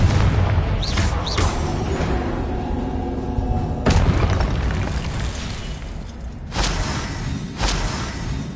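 Confringo explosive spell blasts in Hogwarts Legacy: loud, booming detonations with sharp whooshing onsets, several hits spread across the stretch, each trailing into a rumbling decay, with no voices.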